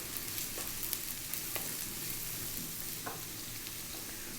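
Finely diced onion and carrots fry for chicken fried rice in oil over maximum heat, giving a quiet, even sizzle throughout with a few faint stirring clicks.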